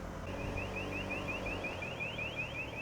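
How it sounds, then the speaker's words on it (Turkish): A steady electronic alarm repeats a rapid rising chirp over and over, moderately loud against low background rumble. "Alarm çalıyor."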